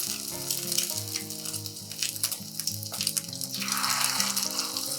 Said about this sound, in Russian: Обжариваем буквально полминуты с каждой стороны до легкого золотого цвета.